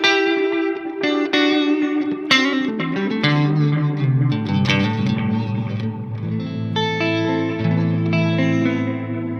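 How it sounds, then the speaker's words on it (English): A distorted electric guitar plays chords and single notes through a Strymon Brigadier analog-voiced delay pedal, each trailing off in soft repeating echoes with a slightly gritty, warm tone throughout. "going to be just a nice analog voiced delay that can be used for pretty much anything"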